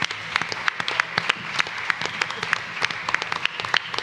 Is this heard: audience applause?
yes